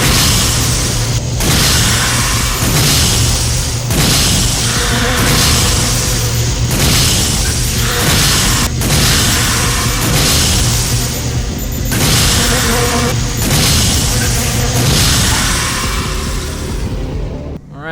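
Grenade rounds detonate one after another against the Halberd in Resident Evil: Dead Aim: loud, booming blasts arrive at a steady pace of roughly one per second and a quarter over a continuous rumbling bed.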